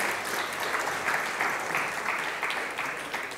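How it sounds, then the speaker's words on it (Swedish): An audience claps in welcome at the start of a competition event, a dense, even wash of applause held for a few seconds. "En applåd för Pernilla."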